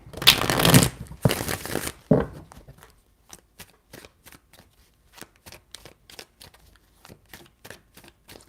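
Tarot cards are shuffled close up, first in two loud riffling bursts, then a long run of crisp, evenly spaced light taps and flicks as the deck is handled.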